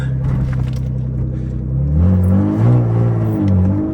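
A BMW E36 engine idles with a steady low drone, then revs up in a couple of rising, swelling pulls, close and loud inside the car.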